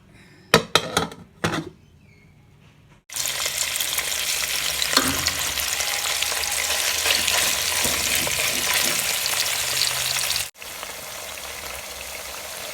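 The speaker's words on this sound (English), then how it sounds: "And now you can see it frying." Dombolo dough fries in hot oil in a pan, a steady loud sizzle that starts abruptly after a few brief knocks and handling sounds, then runs continuously until a short break near the end.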